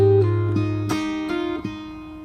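Fingerstyle guitar plays a song, plucked ringing notes and a low bass note in a steady pattern, with sharp percussive slaps on the strings, played close and alone.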